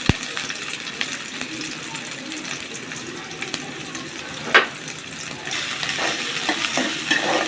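Chopped ginger and garlic fry in a pan, giving a busy sizzle with spoon stirs and scrapes, one sharp clatter midway, and a louder hiss building toward the end.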